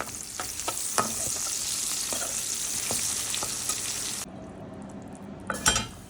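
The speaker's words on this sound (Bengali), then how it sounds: "এখানে পাতাকপি দিয়ে গাজর দিয়ে আলু দিয়ে একটু ভাজি করছি।" Cabbage, carrot and potato frying in a pan give a steady close sizzle with occasional utensil scrapes and clinks, the hiss dropping away after about four seconds before a final clatter, no talk.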